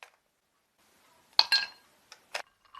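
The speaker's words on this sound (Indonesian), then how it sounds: "Masukkan es batu ke dalam gelas," Ice cubes drop into a glass, giving a few sharp, separate clinks and rattles against a near-silent background, with a bright cluster in the middle and lighter taps afterward.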